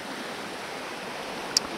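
Water splashes over rocks in bad weather, a steady rushing wash close by with one sharp high click near the end, and no talking.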